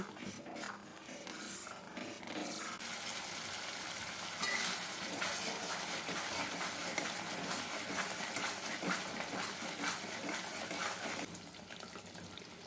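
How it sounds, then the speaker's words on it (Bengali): Eggplant masala with cashew paste and a little sugar is sautéed in a pan, giving a continuous hissing sizzle with scraping from the stirring, fairly faint and close. "এবার এটাকে আমি ভালো করে কষিয়ে নেব"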